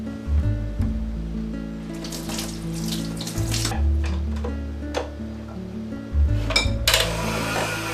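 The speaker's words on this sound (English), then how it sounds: "Now feel free to clean your whisks in any way that you like" Whisks are rinsed under a running kitchen tap, the water gushing in bursts that change pitch as the metal is moved through the stream, with light ticks and clinks against the sink.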